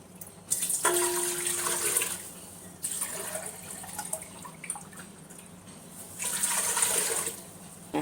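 Measured water is poured for panakam, the jaggery drink, in three separate bursts of close, loud pouring and splashing, with quiet gaps in between.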